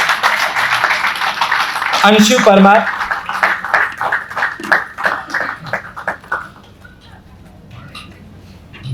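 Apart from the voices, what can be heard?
audience clapping for students receiving certificates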